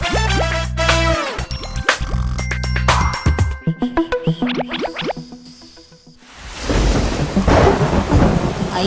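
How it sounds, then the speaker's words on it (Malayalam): Cartoon thunder and rain: bright musical tones and boings play first, then a loud thunder crash opens into a steady, close downpour hiss that fills the last few seconds. "മഴ പെയ്യുന്നു"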